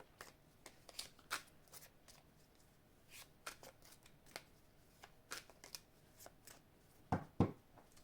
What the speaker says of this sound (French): on va étaler les cartes et on va voir ce qu'on nous dit là avec l'oracle du monde